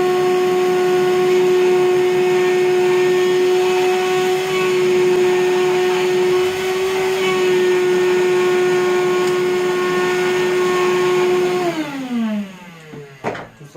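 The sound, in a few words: DeWalt portable shop vacuum running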